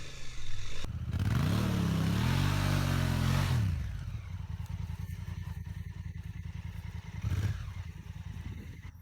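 A motorcycle climbs an off-road hill during a touring trip to Nordkapp, its engine revving hard and loud up close with a rising then steady note, gravel clatter underneath, then settling into a lower idle.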